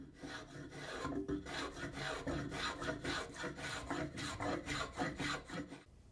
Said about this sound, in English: Spokeshaves are great for freehand shaping or cleaning up curves that the machines have cut.